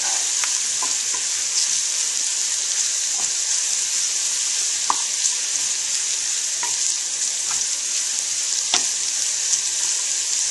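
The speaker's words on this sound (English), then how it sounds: "I'm going to add the bacon pieces back to the pan. Stir those in a little bit." Bacon pieces sizzle in a pan, giving a loud, steady, close frying hiss throughout, with occasional faint utensil taps and no talking.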